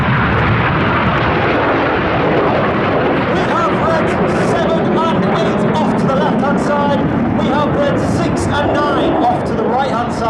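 RAF Red Arrows jets roar through a display break at the Midlands Air Festival, a loud continuous engine rumble under an announcer's commentary and crowd noise.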